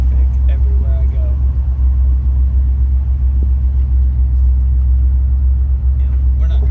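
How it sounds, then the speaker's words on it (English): Steady low rumble of road traffic around a 1995 second-generation Toyota 4Runner, vehicles droning past continuously with no clear individual pass-bys. "Every time I try to leave, there's always so much traffic everywhere I go."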